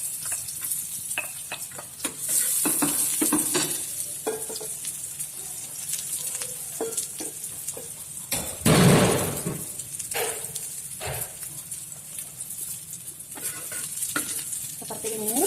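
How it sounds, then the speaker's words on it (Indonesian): Shallots and garlic sauté in a heated Teflon pan, giving a steady soft sizzle with scraping stir strokes and clinks throughout, one louder burst partway through, and no talk. "Miss Fitri akan panaskan teflon untuk mensaute bawang merah dan bawang putih. Kita masukkan bawang merah dan bawang putih."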